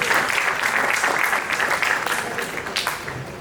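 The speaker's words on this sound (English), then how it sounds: "Let's give him also a big round of applause." An audience claps at a Mercedes-Benz fireside talk event, with dense, steady applause filling the whole stretch and easing off slightly toward the end.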